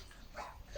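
A dog gives a brief, faint whimper while being given pills, a short soft whine under quiet background.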